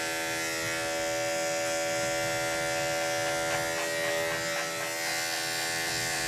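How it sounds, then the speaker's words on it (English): Electric clippers buzz steadily while shaving the inside of a mini toy poodle's ear at a grooming session. The motor hum is close and continuous, with slight changes in tone as the blade works. "I'm going to shave the inside of his ear."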